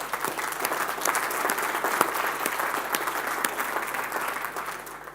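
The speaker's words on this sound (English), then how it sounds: "Why don't we give him a round of applause?" A conference audience at a northern transport summit gives a sustained round of applause, dense even clapping with scattered sharper claps up close, continuing at a steady level throughout over a faint background hum.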